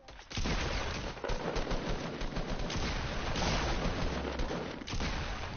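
A video game shotgun fires in a close, heavy barrage of booming blasts that blend into a thick continuous roar. The sound is loud and dense throughout and there is no talking.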